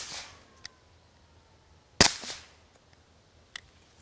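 Suppressed 9mm Smith & Wesson M&P 2.0 pistol with an Obsidian 9 suppressor firing 158 grain Super Vel rounds: two sharp, muted cracks about a second and a half apart, with a fainter click after them, fairly close in a quiet setting.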